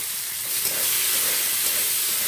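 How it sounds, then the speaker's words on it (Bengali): Green peas and tomato sizzling in hot oil, a steady loud frying hiss that holds close and continuous throughout. "তেলেতেই মটরশুঁটি আর টমেটোটা দিয়ে দিলাম"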